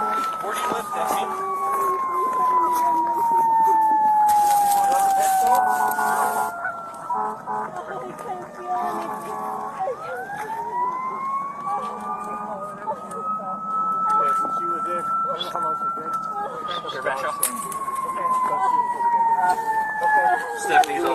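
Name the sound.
ambulance siren approaching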